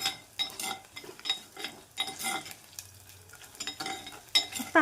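Cashews, cinnamon, green cardamom and large black cardamom sizzle and crackle in a hot pan, with repeated scraping stirs and bursts of frying that rise and fall, close and fairly loud.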